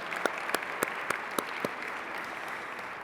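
Applause from an awards-ceremony audience: a steady wash of clapping with a few sharper, louder claps standing out in the first half, with no one speaking.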